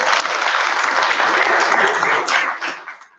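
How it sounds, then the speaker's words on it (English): An audience at an expert panel on investing in reproductive health breaks into applause, a dense burst of clapping that holds steady, then thins out and fades away. "Please a round of applause for me."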